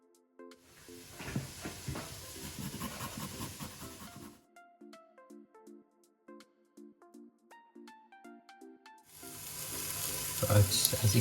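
Onion sizzles and fries in oil in a pot for a one-pot chicken curry (kuku paka). The hissing sizzle is loud at the start and end, and a stretch of quieter clinks and knocks sits in between.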